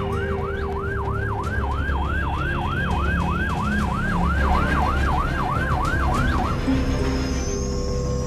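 Ambulance sirens wailing at a road accident on a highway, a fast repeating yelp cycle sounding loud and steady for several seconds over road noise, then cutting off as traffic rumble continues.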